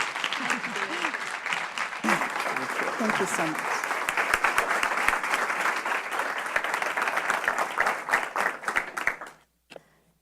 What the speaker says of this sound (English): Please join me in giving her a warm round of applause.